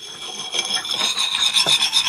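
A file hones the edge of an axe blade in quick rasping strokes, a close, dry scraping rhythm repeating several times in quick succession.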